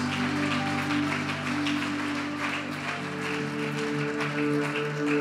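A congregation applauds during a Sunday church celebration service, with a steady wash of clapping over sustained organ-like music tones, continuous and moderately loud.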